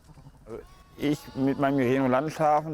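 Merino sheep on a German farm bleat loudly in several drawn-out, wavering calls, close to the listener, after a few quieter bleats at the start.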